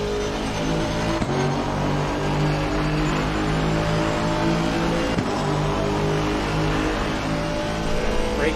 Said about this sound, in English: This is an Aston Martin AMG V8.